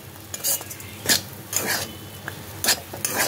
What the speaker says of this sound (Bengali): এরকম ঝুরঝুরে পোলাও বানাতে হলে হাতটা কিন্তু নাড়াতেই হবে